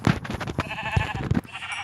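Sheep bleating inside the Minecraft video game, several short bleats spaced over about two seconds, close and fairly clear with no talk over them.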